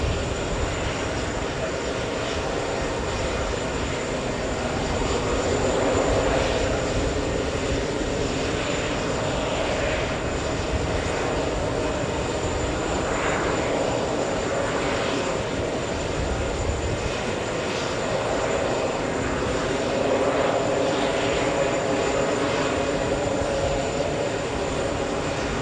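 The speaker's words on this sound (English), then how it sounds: "Close-up arrival, let's take a look. Delta 367 flying in from San Diego," Delta 367 airliner arriving at JFK Airport from San Diego, a long, steady engine roar with rising and falling swells, heard alone at moderate distance.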